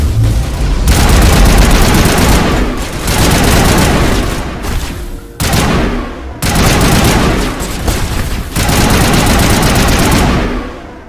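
Intense firefight in a lab in Mass Effect: loud, sustained bursts of automatic weapon fire with booming shots, nearly continuous for several seconds, broken by brief pauses before the barrage resumes.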